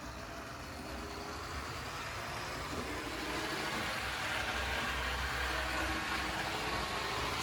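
HO scale model diesel locomotive with steel worm and brass gearing runs with a steady, fairly quiet mechanical whir and hum, constant and unbroken with no talking.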